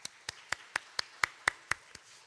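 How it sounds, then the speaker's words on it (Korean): Claps from a church congregation closing a Wednesday evening prayer service, nine or so distinct hand claps in a loose, spaced rhythm, moderately close and fairly quiet, with no voices over them. "모두 박수로 축복하고 마치겠습니다"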